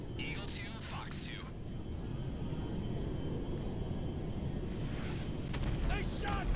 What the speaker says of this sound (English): They shot me! Plane's done, Ron!